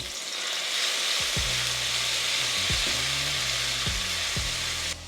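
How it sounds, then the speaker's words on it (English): Oil and Haitian épices sizzle steadily in a hot pot for rice, a loud continuous frying hiss with a few clanks of a utensil against the metal. "So the pot is hot, and so we're gonna add in the oil, about a tablespoon, and then the Haitian épices."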